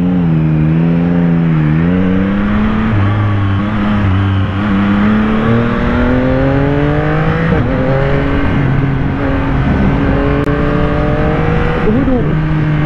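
A 2023 Yamaha XSR900 with its 900cc engine drones steadily while ridden, pitch rising and falling through throttle changes, loud and continuous with wind rush and no clear talk.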